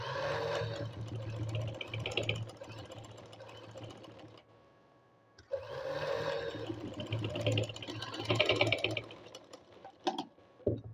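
A sewing machine stitches a zipper with an invisible stitch, whirring in a fast steady run. It goes quiet briefly, then starts up again and sews on with faint clicks near the end.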